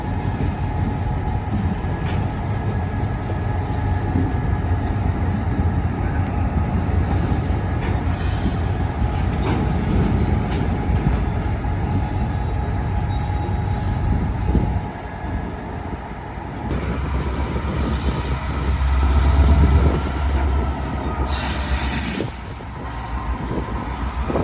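A CSX freight train switches cars on a downtown spur, a continuous rumble of rolling wagons with clanks and a sharp wheel squeal near the end, heard alone at moderate distance.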